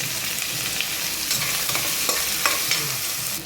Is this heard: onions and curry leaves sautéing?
yes